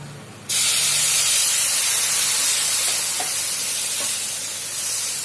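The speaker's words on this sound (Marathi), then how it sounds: "दूध घालते मी त्याच्यात" Milk hits hot roasted semolina and ghee in a pan, bursting into a loud, sudden sizzling hiss that holds steady and strong for several seconds, with no talk.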